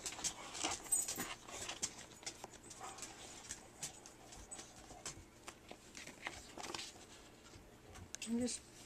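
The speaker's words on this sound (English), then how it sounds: "You might be able to hear my dogs in the background there." Dogs playing in the background, with soft whimpers, panting and scrabbling paws that come and go faintly behind nearby handling noises.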